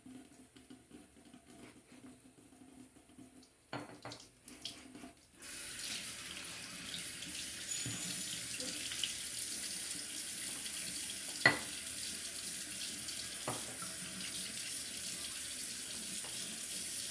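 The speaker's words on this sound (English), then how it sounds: "just drowning this in water" Tap water runs steadily and fairly close into a sink to soak a Simpson Trafalgar T3 shaving brush, starting after a few quiet seconds with soft clatter, then a constant rushing flow with occasional small knocks.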